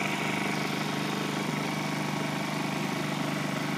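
A Ryobi 2200-watt digital inverter generator running with auto idle engaged, giving a steady, continuous engine drone with a fast, even pulse, close and moderately loud, no voices.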